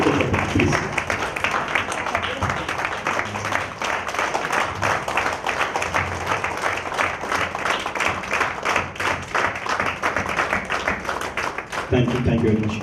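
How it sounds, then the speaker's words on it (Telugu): Audience giving sustained applause to two honoured artists at a cultural event, steady, dense clapping from many hands that continues evenly throughout, with a few voices mixed in. "వాళ్ళిద్దరికీ ఒక్కసారి గట్టిగా చప్పట్లు ప్లీజ్"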